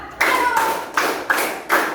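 Hands clapping in a counted rhythmic pattern during a classroom exercise: several sharp group claps, each followed by a short ringing tail, fairly close and loud, with no talking over them.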